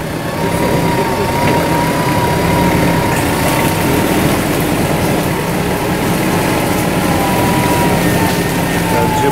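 Off-road vehicle engine revving steadily through deep mud on an extreme off-road course, a loud continuous drone with a rising whine, running throughout with no pauses.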